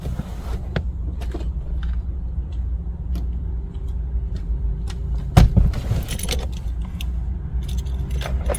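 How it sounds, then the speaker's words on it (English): Honda Passport key fob keys jingle and clink in a few short bursts over a steady low rumble, with a brief louder rattle partway through. "take the new unprogrammed key out of the vehicle"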